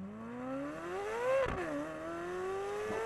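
Exhaust note of a 2023 Chevrolet Corvette C8 Z06 accelerating, played back through a speaker: a single rising engine tone that climbs in pitch, dips around a brief loud surge, then keeps pulling at a moderate level.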